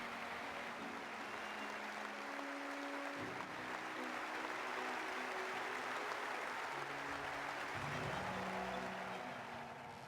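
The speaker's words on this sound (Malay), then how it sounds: "sorakan berterusan penonton di gelanggang Philippe Chatrier" A packed crowd at the Philippe Chatrier tennis court cheers and applauds without pause, a broad, steady roar of clapping and voices heard at a distance and filling the whole stretch.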